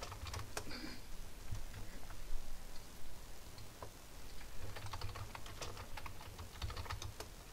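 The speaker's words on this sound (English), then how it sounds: "I don't even believe that I'm typing this" Someone types on a computer keyboard during online gaming, a soft, quick, irregular patter of key presses going on throughout with short pauses, fairly quiet and with no voices.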